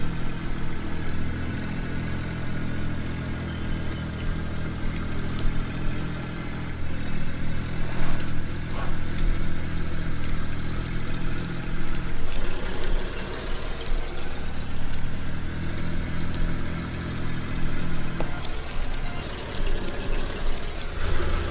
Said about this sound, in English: Mighty 135 though. It's a lovely tractor.